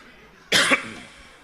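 A single short, sharp cough up close, followed by a quiet room with no talk.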